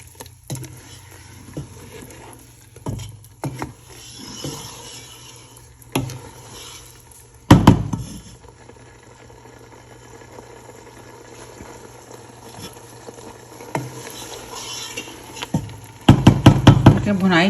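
Chicken being fried and stirred with tomatoes in a pot for a Lahori chicken curry: a spoon knocks and scrapes against the pot now and then over a low sizzle, with someone talking throughout.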